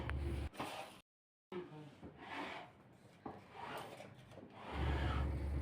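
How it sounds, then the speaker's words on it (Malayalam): A small chisel scrapes loosened paint off old wood after stripper has been applied, giving repeated close rasping and rubbing strokes with a brief silent gap partway through. "ചുരണ്ടുന്ന പണി നടന്നുകൊണ്ടിരിക്കുകയാണ്."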